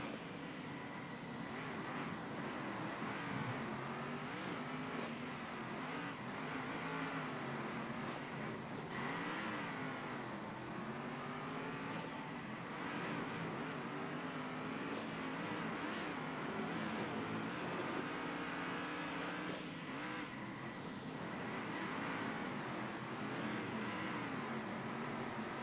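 Muscle car engine racing in the Circuit Superstars video game, a steady loud drone with shifting pitch as the car accelerates and brakes through corners, continuous for the whole stretch with no talk.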